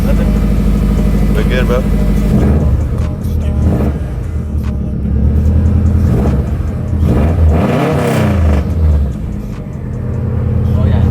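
Subaru WRX STI with a big turbo and new AEM fuel pump starting up, then revving in several loud surges and dips close by, with a person talking over the engine.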